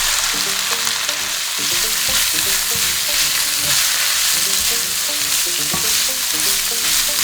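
Sliced red onions fry over high heat in a pan, giving a loud, continuous close sizzle with frequent stirring scrapes and clatter, no voices.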